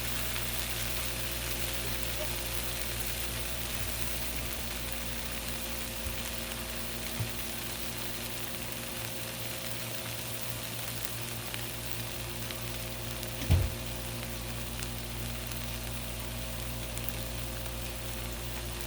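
Sloppy joe meat sizzles faintly and steadily on a Blackstone griddle, a soft continuous crackle over a low hum, with one short clatter of a utensil partway through.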